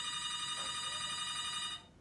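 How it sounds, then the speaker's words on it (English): A telephone rings with a steady, bright electronic trill that holds at an even level for nearly two seconds before cutting off, with no talk over it. "That phone is ringing."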